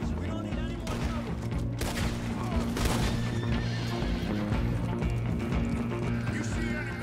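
Horses in the Red Dead Redemption 2 video game whinny and neigh repeatedly over clip-clopping hooves on a road, with bursts of gunfire and background game sound mixed in.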